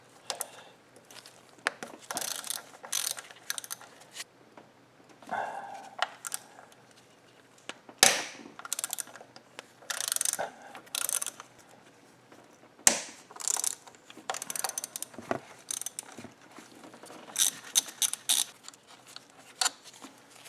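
A ratchet wrench backs out 10mm bolts on the M30 engine of a BMW E32 735iL during water pump work, with bursts of quick close clicks and metallic clatter separated by short pauses.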